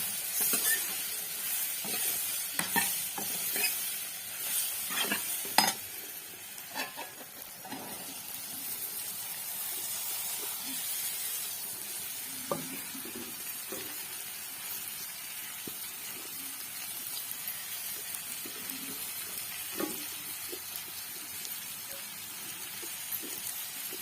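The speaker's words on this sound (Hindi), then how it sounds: "अब मैं लगा रही हूँ इनमें तड़का।" Bitter gourds fry in a hot tempering on a stove, giving a steady close sizzling hiss with occasional stirring clinks and scrapes, strongest at the start and then settling into even frying.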